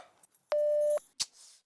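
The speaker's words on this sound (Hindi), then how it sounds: "घर का फोन बिजी आ रहा है।" A home telephone line gives a busy signal, a single steady electronic tone lasting about half a second, framed by faint clicks and followed by a brief rustling noise.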